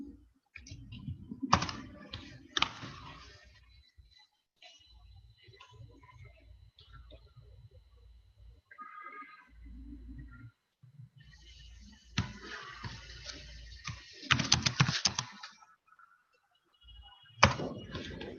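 Scattered clicks and typing on a computer keyboard while random data goes into an Excel file, coming in quiet irregular clusters separated by pauses.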